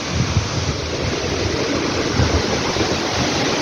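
The Sunsari waterfall roars as a steady, broadband rush of falling water heard up close, unbroken throughout with slight gusty rumbles and no talking.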